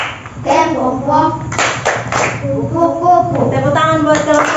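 Schoolchildren clap a rhythmic classroom game, a few sharp bursts of claps between stretches of their chanting voices, close and lively.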